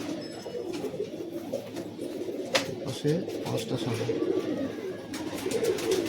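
Pigeons coo in low, rolling, overlapping calls throughout, including red-eyed white Madrasi-type birds at a loft sale, while someone talks over them nearby.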